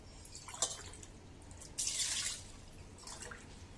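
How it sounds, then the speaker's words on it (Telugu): Water poured over chana dal in a pot in a home kitchen, a few separate splashing pours with a louder burst in the middle, close and fairly soft overall. "వాటర్ వేసుకుని దీంట్లో 3 గ్లాసులు నీళ్లు పోసుకోవాలి."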